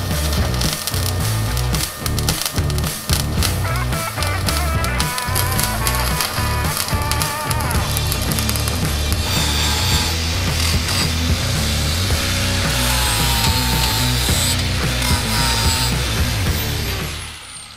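Power sanding on a window being installed in a shipping container base, a continuous loud buzzing grind with uneven rhythmic pulses over about eighteen seconds, alone with no talking.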